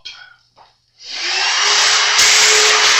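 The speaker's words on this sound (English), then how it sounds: "So let me vacuum this mess up." After a brief rustle and a pause, a vacuum cleaner switches on and roars steadily up close, sucking up metal filings from levelling the frets on a guitar.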